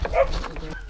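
Rescue dogs on a long road transport give a short yip and bark close by, with a whimpering tone, mixed with faint background voices.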